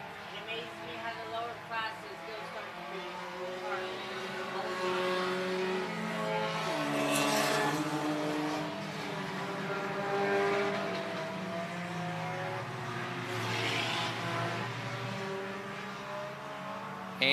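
Sport compact race cars lapping I-76 Speedway, their engines a steady, distant drone that swells and fades as the pack passes, heard under continuous commentary.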